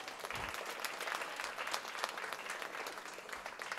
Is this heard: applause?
yes